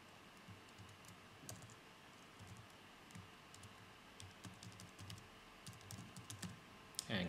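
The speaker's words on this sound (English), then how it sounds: "So I'm going to type in an email address." Keys on a computer keyboard click at close range in irregular bursts of typing as an email address is entered, with a faint steady background hum and a louder clack at the end.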